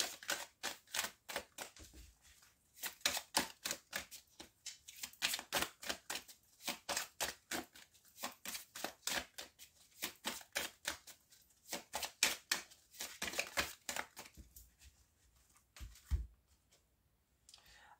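Tarot cards being shuffled and drawn: a close, rapid run of crisp flicking and riffling clicks with short pauses between bursts, and no talking.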